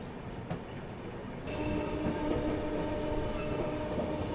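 A train rumbles steadily at Prayag Junction railway station, a low continuous roar that swells louder partway through and carries faint metallic squeals over a close, sustained drone.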